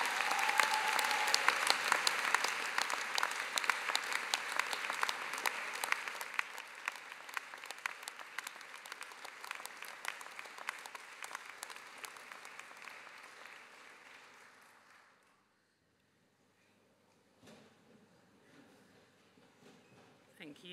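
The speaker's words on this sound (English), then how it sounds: "Big round of applause for your friends and family." A graduation audience gives a long round of applause for friends and family, dense clapping filling a hall, fading gradually until it dies away near the end, followed by faint room sounds.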